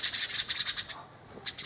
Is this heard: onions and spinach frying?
no